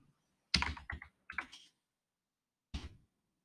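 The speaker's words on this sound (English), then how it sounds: "I typed the value first" Computer keyboard typing during a network switch security configuration, a short burst of clicks, a pause, then another few keystrokes and one last brief tap, fairly close and clear with no voices.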